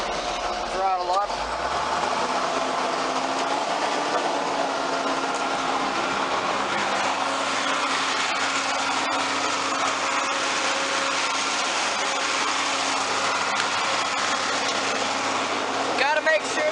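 A John Deere 4450 tractor throttles up while running a JD 3970 forage chopper on third-crop hay, the engine rising early and then holding a loud, steady roar with machinery rumble throughout, close by.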